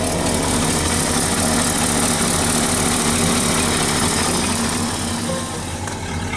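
A 1969 Ford Ranger engine runs at a steady idle, a close, continuous low rumble with even vibration that eases slightly near the end, with no talking.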